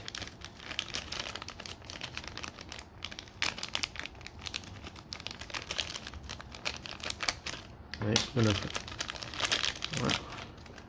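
Plastic baggie crinkling as parts of a Transformers Legacy upgrade kit are unpacked, soft close rustles and crackles under intermittent talk, with a sharper burst of crinkling near the end.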